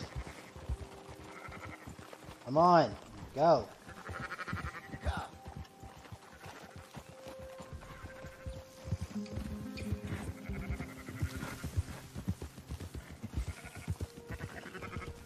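Sheep bleat twice in quick succession in the open-world western game Red Dead Redemption II, loud and close over a low ambient game soundscape, with someone speaking briefly nearby.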